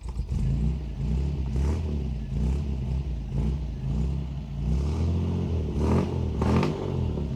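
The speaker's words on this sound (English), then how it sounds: "I want you to listen to the exhaust in this car." A 1954 Chevrolet Bel Air with Powerglide transmission and dual exhaust on a split manifold idles steadily close by, a deep burbling rumble with a few brief revs swelling and falling, no voices.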